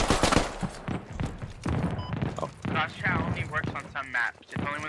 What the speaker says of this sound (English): I can't hear you uh, over the mortars